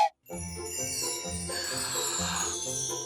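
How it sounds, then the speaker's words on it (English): Bright jingle-bell shimmer rings out over a bouncy musical backing for a candy cane train toy delivery, steady and loud throughout after a brief pause at the start. "Jingly jingle bells!"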